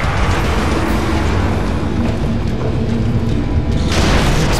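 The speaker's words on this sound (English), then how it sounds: "Explosion." A video game explosion in Orcs Must Die! 2 gives a loud, sustained rumbling boom that fills the whole stretch, with a brighter burst near the end and no talking.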